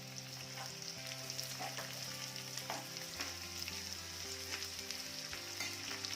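Garlic and chopped onion fry in hot oil for a leafy tandali greens dish, giving a steady, close sizzle with occasional stirring scrapes and no voices.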